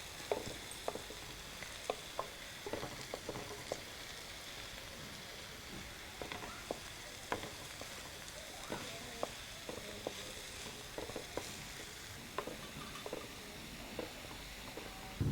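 Coconut paste stirred into cooked bottle gourd sizzles in the pan, a steady crackle broken by scattered spoon scrapes and clicks throughout, moderately close with no talk.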